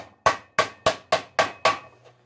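A hammer knocks together a tin-sheet seam joint on a three-piece duct elbow: six sharp metallic blows at a steady rhythm, close and loud, each ringing briefly.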